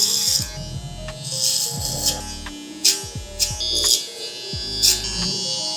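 Electric hair clippers buzz steadily while cutting a taper fade, the blade lever being adjusted and closed bit by bit, with short louder bursts and pauses as strokes pass close through the hair.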